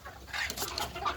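Fayoumi hens and a rooster clucking on a small poultry farm in Munshiganj, Bangladesh, a run of short close clucks over about a second with no talk.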